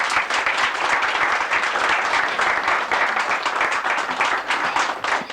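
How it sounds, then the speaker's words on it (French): An audience applauds an accordion singer on a 1986 French television variety show, dense steady clapping filling the whole stretch at close range. "on peut l'applaudir."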